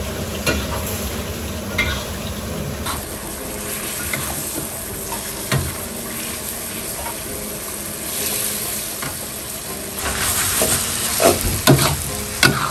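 Shredded chicken in rica spice paste sizzles as it cooks down in a pan, a continuous close frying hiss broken by spatula scrapes and stirring clatter that grow busier near the end, with no talking.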